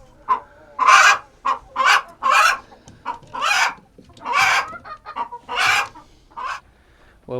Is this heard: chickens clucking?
yes